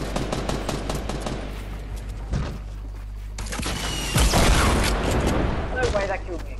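Fortnite gunfire bursts crack out over a steady game hum, with a louder flurry of shots near the end while players talk excitedly over it.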